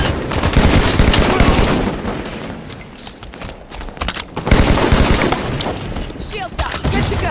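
Beam rifle fire in the Halo 5 video game: loud, dense bursts of shots and crackling blasts packed into busy battle noise, dipping briefly before another heavy volley.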